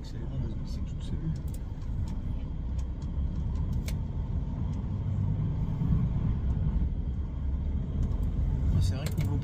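A delivery truck's engine rumbles steadily from inside the cab as it accelerates, a dense low drone that builds slightly without a break.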